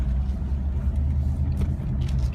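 A 1948 Cadillac climbs a hill, its engine giving a steady, loud low rumble with a slight rising strain, heard close and continuous with no talk.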